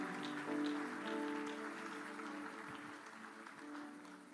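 A church congregation claps together during a worship service, a steady, fairly faint wash of applause that fills the room evenly, with a soft musical tone sustained underneath.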